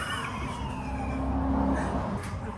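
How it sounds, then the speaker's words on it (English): A fire truck siren wails as it passes on a street, a rising and falling tone over road rumble, moderately distant and steady with no voices. "Fire truck. Pulling people over right here."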